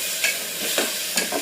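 Hyacinth bean lentils fry in an oil tempering as a spoon stirs them: a constant close sizzle broken by three or four brief scraping swishes.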